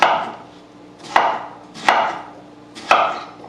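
A knife cuts through a radish on a cutting board in four sharp chops, evenly spaced about a second apart, close and clear with no talk.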